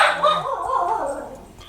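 A person imitates a dog with a few yipping, whimpering bark-like vocal sounds in a casual podcast conversation, close and fairly loud, fading toward the end.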